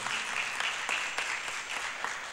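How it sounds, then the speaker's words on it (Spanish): Concert audience applause during a live recital, a steady dense patter of clapping heard alone at moderate distance for a couple of seconds. "y un aplauso también"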